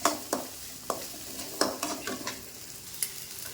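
Onions and green chillies sauté in a pan with a soft, low sizzle, broken by sharp scraping clicks as a spoon stirs and knocks against the metal every half second or so, no voices heard.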